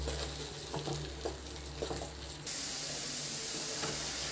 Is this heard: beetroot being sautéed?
yes